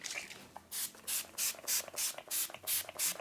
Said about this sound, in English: I'm going to be using Urban Decay's Chill Setting Spray, and that completes the look.